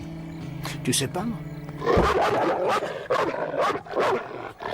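A dog growls and rumbles low and close, roughly and in bursts, while someone talks over it in French in a run-down motel.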